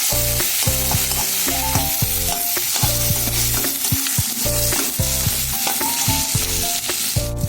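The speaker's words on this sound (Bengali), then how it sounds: "আদা রসুনটা ভাজা ভাজা হয়ে গেছে" Grated ginger and garlic sizzle loudly in hot oil in a home kitchen, a constant crackling fry broken by repeated scraping strokes of a spatula against the pan.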